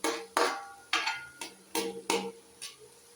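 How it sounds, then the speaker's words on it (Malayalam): Jackfruit chips, salted beforehand, are stirred gently in hot oil in a metal pan, giving a series of about seven sharp scraping clinks at an uneven pace, close up with nobody talking. "പതിയെ ഇളക്കി കൊടുക്കാം."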